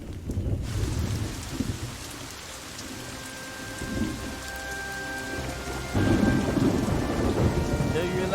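Steady rain pours down with rumbling thunder rolling underneath, swelling at intervals and growing louder toward the end, with no voices.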